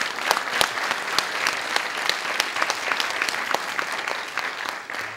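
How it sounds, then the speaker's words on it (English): An audience at a 2010 Korea GPLC keynote at the National Assembly gives a round of applause: dense, sustained clapping from many hands that stays loud and even throughout, then tapers slightly at the end. "a round of applause"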